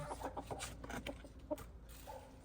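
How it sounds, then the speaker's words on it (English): A backyard chicken clucks softly in a series of short, irregular calls, fairly quiet against a low outdoor background. "Because he's a very strange chicken."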